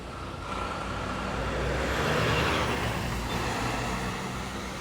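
A truck pulls away from a crosswalk on a city street, its engine building into a broad, rising roar that peaks and then eases off. It is heard from nearby outdoors, with no talk.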